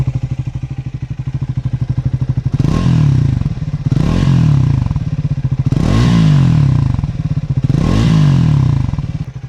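Triumph Scrambler 400 XC motorcycle idling close to the microphone, a steady thumping single-cylinder beat broken by four sharp throttle blips that rise and fall back to idle.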